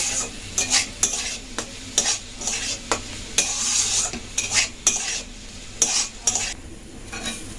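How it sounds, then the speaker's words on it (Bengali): Shyama rice is dry-fried in a pan and stirred with a utensil. Rhythmic scraping strokes repeat every half second or so over a light, steady sizzle, with no talking. "এবার চালটা ভালোভাবে একটু ভেজে নেব বেশি ভাজবার দরকার নেই"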